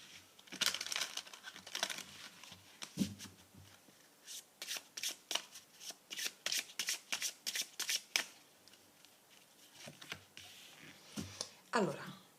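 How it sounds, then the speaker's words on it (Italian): Tarot and oracle cards being shuffled by hand, a quiet, close series of riffles and crisp flicks in irregular bursts over several seconds. "Mettiamo una carta di tarocchi e una carta degli oracoli."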